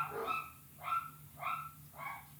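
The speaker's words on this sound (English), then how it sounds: "The dog's just bombing the chat." A dog barks four times in a steady rhythm, each a short, fairly loud yelp-like bark, with a constant low electrical hum running underneath.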